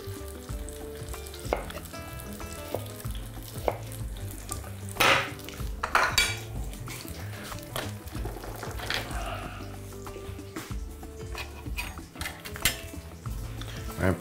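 An apple lifted from a frying pan of spiced oil while making a warm chicken liver salad: oil sizzles continuously, with clinks of a utensil against the pan and scattered sharp clatters close by.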